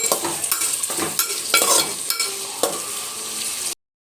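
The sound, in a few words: stirring onions with bay leaf in a cooker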